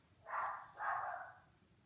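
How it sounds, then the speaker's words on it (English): Dogs give two short barks in quick succession, a little muffled as if from another room, with near silence afterward. "My dogs are barking."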